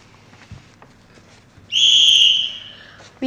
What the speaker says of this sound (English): we'll begin as soon as the whistle blows.